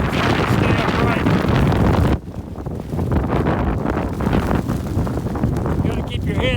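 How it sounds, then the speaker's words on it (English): Strong mountain wind of about 45 to 50 mph buffets the microphone in loud, continuous roaring gusts, briefly dropping before surging again, with a person speaking over it. "The wind's maybe 45, 50 miles an hour right now."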